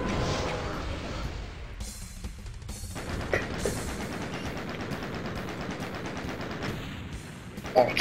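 Rapid gunfire from a video game, with bursts of automatic shots and crackling fire running steadily through the whole stretch, loud and dense, with a sharper burst near the end.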